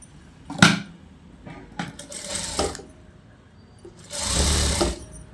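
A sewing machine stitches frock pieces in short bursts, a brief rattling run, a few quieter clicks, then a longer steady buzzing run near the end, close up with fabric handling between.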